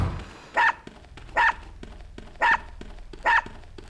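A dog barking in the fantasy platform video game Unepic, four evenly spaced sharp barks about a second apart over a low background, with no talk.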